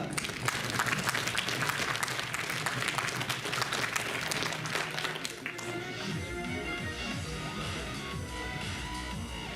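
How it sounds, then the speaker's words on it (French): An audience breaks into sustained applause, many hands clapping densely and loudly, then thinning toward the end. "Allez, vous pouvez l'applaudir."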